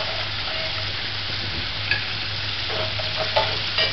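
Homemade french fries frying in hot oil, giving a loud, dense, continuous sizzle with occasional pops and light scraping as the fries are stirred, close and alone without speech.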